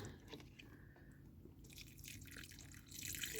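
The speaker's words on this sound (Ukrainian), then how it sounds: "Ось дивіться, водичка капа знизу, бачите?" Water drips from the bottom of a freshly watered pot of aeonium succulents in a quiet room, a few soft irregular drips with faint trickling that grows slightly toward the end.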